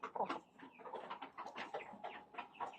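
Brahma breeder chickens in a backyard farm clucking steadily in a close, busy flock, with overlapping soft clucks and murmurs throughout.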